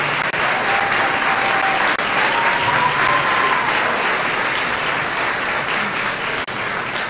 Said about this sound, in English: ask you all to stand up and give a special round of applause